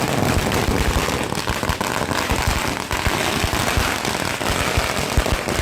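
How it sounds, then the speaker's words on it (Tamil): Firecrackers bursting at a public and political celebration in Tamil Nadu, with dense, continuous crackling pops and rapid bursts like a long string of crackers, loud and sustained throughout with no pauses. "பொதுமக்கள் பட்டாசு வெடித்தும் இனிப்புகள் வழங்கியும் கொண்டாடினர்."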